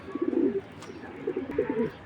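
A pair of Tiger Grizzle pigeons coo in two soft, rolling phrases close by, with no talking over them.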